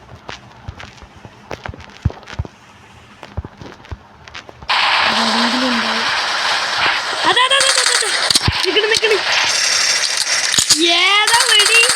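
Gunfire in the multiplayer video game Local Warfare on a new map: sharp, scattered shots crack out, then a loud dense stretch of game noise follows while a voice talks over it.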